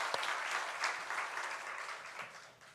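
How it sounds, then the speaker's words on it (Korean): Church congregation applauding during a Korean Sunday worship service, a steady dense clapping that holds evenly for a few seconds at moderate distance. "우리 하나님께 영광의 박수 올려드리겠습니다."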